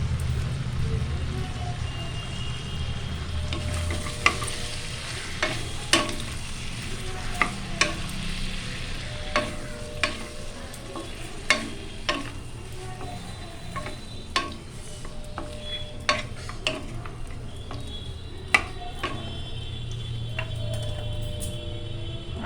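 Mutton coated in spice paste sautés in a pan, with a continuous soft sizzle. Sharp spoon knocks and scrapes against the pan recur irregularly throughout as the meat is stirred.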